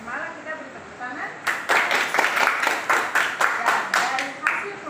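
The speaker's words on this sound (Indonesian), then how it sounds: "kita beri tepuk tangan" A class applauds a student in a civics lesson. Roughly ten brisk, rhythmic claps sound after a quiet start, with a voice speaking underneath.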